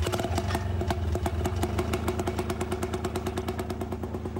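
A homemade motorized cart built from old airplane parts runs its small engine at a steady idle in Alaska, a close, loud, rapid chugging clatter with even rhythm throughout.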